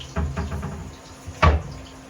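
A door opening in a small smoky kitchen during a chicken-wing fry, one sharp close knock and creak standing out over faint kitchen clatter and a low steady hum.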